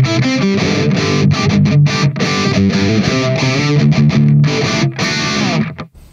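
Fast, heavily distorted electric guitar runs through a Two Notes Opus amp-simulator pedal with no reverb play dry and upfront, notes stopping abruptly with no lingering echo.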